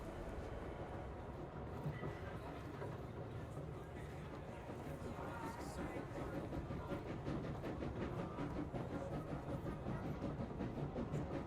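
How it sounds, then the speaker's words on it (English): Passenger train running on rails through the countryside, with a steady low rumble and faint rhythmic clatter across the whole stretch, while muffled chatter from people aboard the car carries on underneath. "I can hear the train running"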